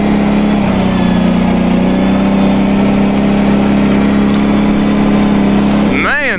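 Kawasaki KFX700 automatic ATV engine holding a steady, loud, close drone, then climbing into a rising whine as it accelerates near the end.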